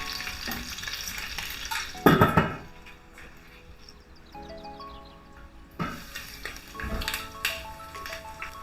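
Nepali-style pork curry cooking slowly on low heat in a pan, a soft steady sizzle broken by louder bursts of stirring, scraping and utensil clatter, with no talking.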